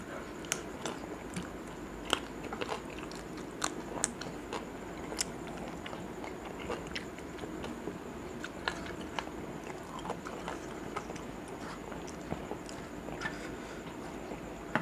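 Crisp, crunchy chewing close up, with irregular sharp crackling bites repeating steadily over a low background hum.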